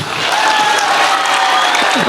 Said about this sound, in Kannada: ಜೋರಾಗಿ ಚಪ್ಪಾಳೆ ಕೊಡಿ